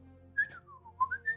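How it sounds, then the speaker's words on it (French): A character in the video game The Adventures of Elliot: The Millennium Tales whistles a short, bright melody of a few rising and falling notes over a quiet low background hum. "j'ai fait mon petit sifflotis."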